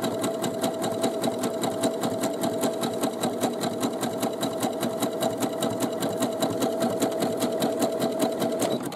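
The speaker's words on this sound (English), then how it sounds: "just stitch across there, keeping those seams flat" A sewing machine stitches across the boxed corners of a fabric bag, a loud, fast, even mechanical rattle of needle strokes running continuously and close up, with no talking.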